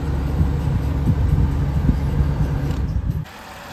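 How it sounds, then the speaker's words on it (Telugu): A Renault Kwid RXT petrol engine idles with a steady low rumble, close and even, cutting off abruptly near the end to leave faint background. "ఇంజన్ బీటింగ్ కూడా చూడండి, సైలెంట్ ఉంది."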